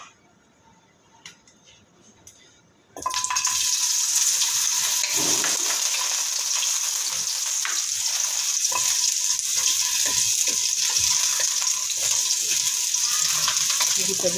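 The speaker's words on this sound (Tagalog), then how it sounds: "Init na ang kawali. Lagay natin ang carrots." Carrots hit a hot oiled pan and break into a loud, steady sizzle of frying that keeps going without a break, with faint stirring ticks mixed in.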